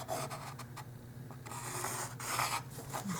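Pencil drawing lines on paper for a doll-size bento box, a close, soft scratchy rubbing in short uneven strokes, with no talking.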